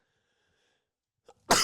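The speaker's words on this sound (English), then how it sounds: "Hit the mute button just in time for that sneeze." A single sharp sneeze right at the end, loud and close after near silence with a faint intake of breath just before.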